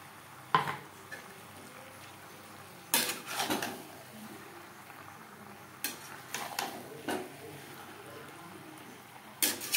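Jackfruit, potatoes and spices being stirred in a pan for a Bengali prawn curry, with a few separate bursts of scraping and clatter spread over a quiet, low background.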